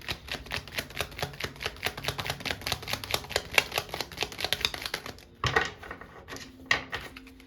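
Tarot deck shuffled by hand in a rapid, steady run of papery taps and slaps for several seconds, then a short pause and a few louder, separate card snaps, close and with no talking.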